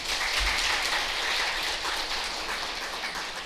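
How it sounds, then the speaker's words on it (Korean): Audience applause at a government training institute lecture on practical AI use in Iksan, a steady broadband patter of many hands clapping for a few seconds, fairly even in level. "이게 마음에 들으면 박수 좀 쳐주세요"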